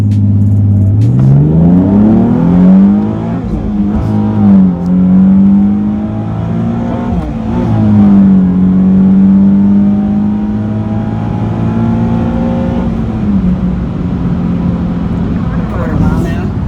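Car making a drag run, engine revving hard and climbing in pitch through several gear changes, loud and close from inside the cabin, with a driver talking over parts of it.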